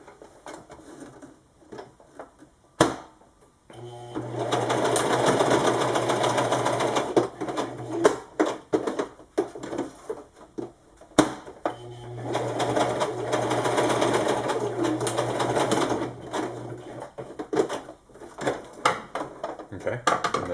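A sewing machine stitches a piece of flat strap into the middle of an elastic edge for a wing-style magazine pouch, running in two long steady bursts separated by a pause, with some light handling clatter.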